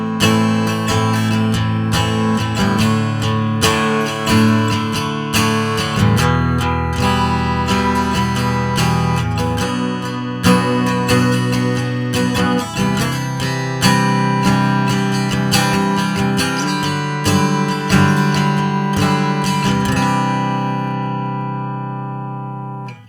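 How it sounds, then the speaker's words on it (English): Acoustic-style guitar tone from a piezo pickup on an Emerald Virtuo guitar, blended about 60-40 with an impulse response; a steady, loud stretch of strummed and picked chords that rings out at the end, with no talking. "that's a pretty good direct acoustic tone"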